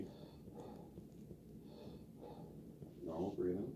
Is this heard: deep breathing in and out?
yes